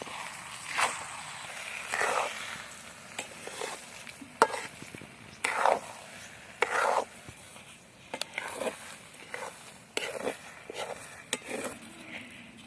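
Half a kilo of sugar is stirred into cooked rice in a pot for sweet rice, giving a series of scraping, rustling strokes in an uneven rhythm with occasional metallic taps, close and fairly quiet.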